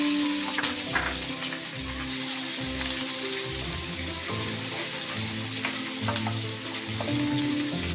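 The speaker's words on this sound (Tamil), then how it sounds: "பூண்டு சேர்த்திக்கலாம். இது கூடயே கருவேப்பிலை, பெரிய வெங்காயம் சேர்த்திக்கலாம்." Garlic, curry leaves and large onion frying in a pan for a Tamil tomato kurma, a steady loud sizzle throughout with occasional scrapes and clinks of stirring, close up and with no voices.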